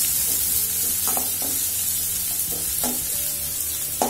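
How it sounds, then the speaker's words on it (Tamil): Finely ground onion sautéing in a pan on the stove, with a steady sizzle under a few scraping stirs of a spoon. No one speaks. "இப்போ பொடியா அரைஞ்சு வச்சிருக்க வெங்காயத்தை இதோட சேர்த்துக்கலாம். லைட்டா வதக்கிடலாம்."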